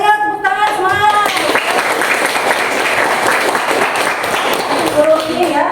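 A classroom of students claps their hands together in a dense, lively burst that lasts several seconds, with a teacher's voice speaking just before and after the applause.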